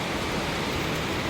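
Rain falling steadily in Hong Kong, a continuous broadband hiss of drops close by, unbroken across the short stretch with no voices.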